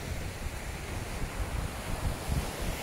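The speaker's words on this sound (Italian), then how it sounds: "siamo qui davanti al mare" Sea waves wash onto an Italian shore in a steady, full roar of surf, with some wind buffeting the microphone and no voices.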